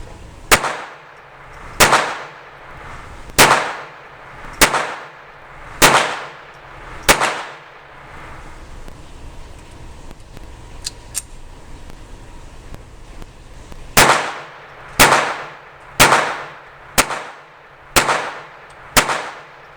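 Jennings J-22 pistol firing CCI subsonic .22 ammunition outdoors, about a dozen sharp, loud shots spaced roughly a second or two apart, with a pause of several seconds in the middle before the firing resumes.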